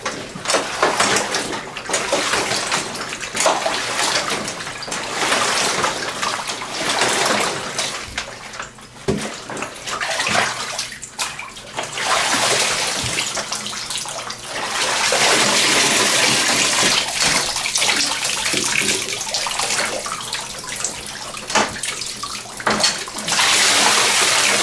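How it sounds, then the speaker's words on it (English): Water runs steadily into a bathtub while a backpack is rinsed, a loud continuous splashing gush with shifting swells throughout and brief sloshes as the pack is moved. "so we'll just go ahead and rinse it."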